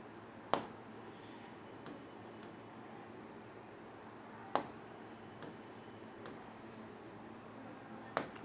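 Chalk or marker scratching out equations on a classroom board during a physics lecture on parallel resistors, a few sharp taps and short scraping strokes spread across a quiet room with a steady low hum.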